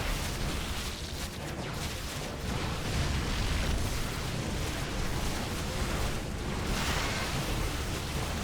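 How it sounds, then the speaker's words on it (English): Continuous rumbling explosions and battle noise from a StarCraft II match as a Zerg base comes under fire, a dense, loud wash of blasts with no commentary over it. "The base is under fire."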